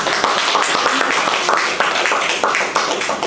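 A group claps at a law school session. Loud, busy hand clapping with sharp individual slaps runs throughout, with no voices over it.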